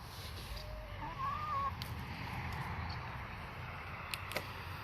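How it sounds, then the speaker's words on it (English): Chickens cluck faintly outside on a homestead, with a short rising call near the start over a steady outdoor hum and a couple of sharp ticks toward the end. "wherever I am, the chickens have to come outside."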